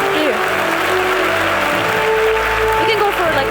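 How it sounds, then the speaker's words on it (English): Audience applause for conference panelists at a crypto and NFT event panel, a steady dense clapping wash filling the room over its full length, with a voice talking beneath it. "let's give a round of applause for our panelists"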